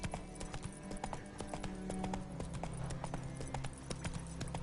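A horse's hooves clip-clop in a quick, even rhythm in The Witcher 3, with close, regular beats running the whole time over a low rumble of movement.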